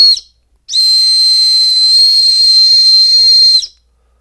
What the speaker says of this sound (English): it's really not that great of a whistle